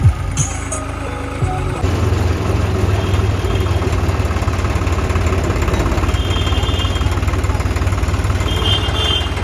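A tractor engine idles near at hand with a loud, steady low chugging rumble, after a brief burst of handling noise at the start.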